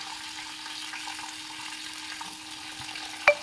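Dried red chillies and green chillies frying with mustard seeds and cumin in hot oil give a steady, low sizzle throughout, with a brief louder clatter near the end.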